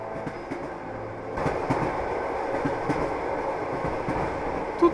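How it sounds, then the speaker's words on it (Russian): A train carriage in an animated horror cartoon rolls steadily along the rails, giving a continuous close rumble with faint rhythmic clacks and brief metallic accents throughout, growing slightly louder partway through, with no voices. "Похоже на вагон поезда, но не поезд. Мы куда-то движемся."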